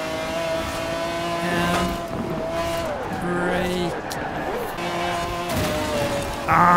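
A car's engine races and shifts through gears in Forza Horizon 4, revving loudly and continuously up close, with tones rising and dropping across the run.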